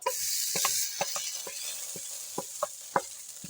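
Food cooking in a pan on a home kitchen stove, a steady soft sizzle under a series of light scraping stirs and clinks of a utensil against the pan, close and moderately quiet, with no talking.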